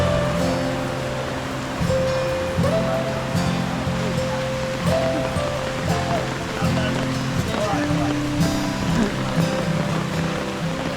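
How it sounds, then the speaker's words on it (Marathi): Savdav waterfall near Kankavli in Sindhudurg, Konkan, in high monsoon flow: a steady, broad roar of falling water fills the whole clip, with background voices and some music-like tones mixed in. "हेच पाणी सगळं इथून खाली जातं, धबधबा म्हणून पडतो"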